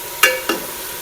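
Two sharp sizzling bursts as onion paste hits hot oil in a pan of fried chicken, each flaring loudly then fading into a soft, steady crackle.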